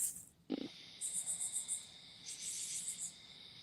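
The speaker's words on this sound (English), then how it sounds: "The crickets really sold that." Crickets chirp as a comic silence effect after a remark about a movie saga, a steady high-pitched pulsing chorus that stops and starts, fairly quiet, with a short thump partway through and no talk over it.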